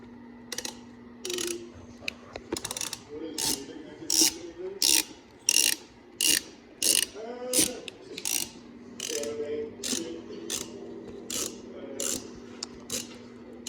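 Ratchet wrench clicking in quick repeated bursts while loosening bolts on a Toyota Aristo during a five-speed manual swap, close and crisp, sharp rhythmic clicks with brief pauses between strokes and no talking.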